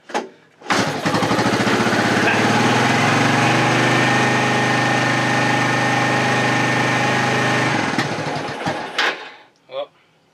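A barn-fresh 1985 Suzuki Quad Runner 250 ATV still needing choke fires up and runs loudly and steadily up close for about seven seconds, then cuts out, followed by a few handling clunks.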